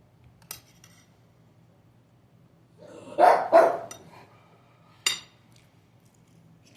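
A dog lets out a pair of close, sharp barks, followed a moment later by a single shorter yip, against quiet background hum with a few faint clicks.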